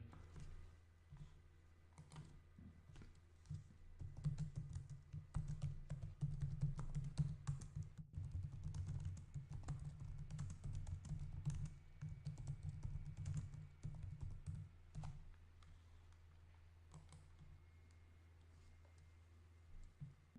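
Steady typing on a computer keyboard as a form is filled in, with quick, close key clicks running continuously for most of the stretch before tapering to a few scattered taps.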